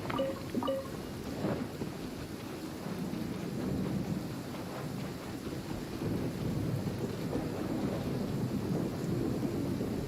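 Thunderstorm in the video game Genshin Impact's Inazuma region: steady heavy rain hissing on surfaces with low rumbling thunder rolling underneath, constant and enveloping for the whole stretch, with no voices.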